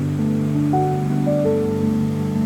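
A waterfall in Slovakia roars as a steady broadband rush, with tonal hum from a nearby engine or device running through it, continuous and fairly loud throughout.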